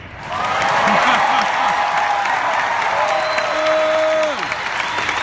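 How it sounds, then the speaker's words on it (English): A crowd at a D23 Expo Disney parks and resorts panel claps loudly and continuously, with scattered cheers, while sliding musical tones play over the applause. "let's have one more big round of applause for our winner, Stanley."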